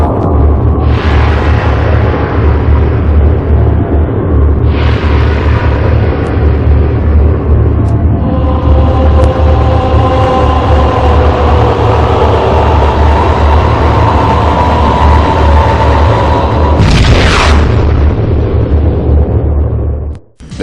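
Opening intro of the Nintendo 64 game Perfect Dark, loud continuous cinematic sound with deep rumbling booms, swelling whooshes and a sharp burst near the end, no voices.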